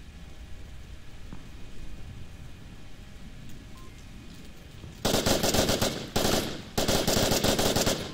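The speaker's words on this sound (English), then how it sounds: "Snamble is putting shots onto the spawn house" Bursts of rapid automatic gunfire in the VR shooter Onward, starting after a quiet stretch of faint ambience, with loud sustained volleys broken by brief pauses.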